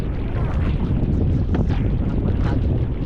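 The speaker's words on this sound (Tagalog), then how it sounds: "Ang hangin no, ang padpad na malakas." Strong wind buffets a boat out at sea, a steady loud roar of gusts and microphone rumble with a faint wash of water beneath, continuous for the whole stretch without talk.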